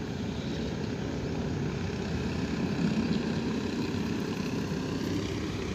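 A propeller airplane climbs out after takeoff from Cilik Riwut Airport in Palangkaraya, a steady low engine drone that stays broad and constant at moderate distance, with no voices.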